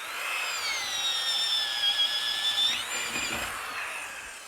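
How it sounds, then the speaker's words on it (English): A power drill bores holes up into the rafter space for kitchen outlet cables, a whining motor tone that holds steady, then dips and shifts pitch near the end, fairly quiet and alone. "I'm going to start with the drilling for the outlets here in the kitchen area up"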